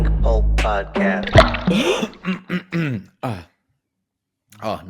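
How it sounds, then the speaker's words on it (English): A throat clearing followed by a cough, loud and close, with people talking around it and a brief pause near the end. "nice way to start with a nice cough."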